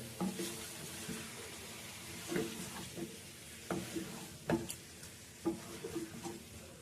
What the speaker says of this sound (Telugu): చికెన్ని బాగా కలుపుకొని వేయించుకుందాం.